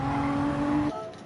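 Mazda 787B race car engine in a racing game, a steady high-pitched tonal drone held for about a second before the pitch drops abruptly as the car pulls away, heard alone at moderate level.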